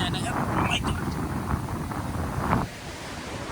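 Ocean waves washing onto the shore in a continuous rushing wash under heavy wind buffeting the microphone, with a voice talking close by.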